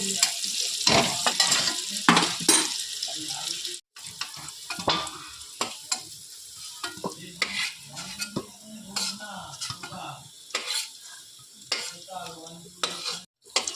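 Cauliflower florets frying lightly in oil in a pan, with stirring and the clink of a utensil against the pan over a low sizzle, close and moderately loud, with short pauses between stirs.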